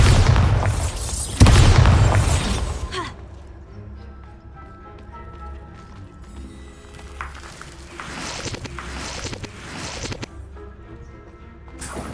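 A heavy booming spell explosion from the Hogwarts Legacy video game erupts loudly at the start, then fades into rumbling game ambience with scattered softer impacts.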